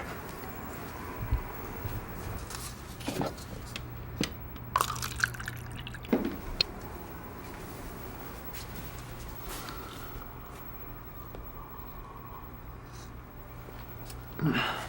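Water trickles and drips into a cup at close range, a few splashy bursts over steady low room hum, with brief talk around it.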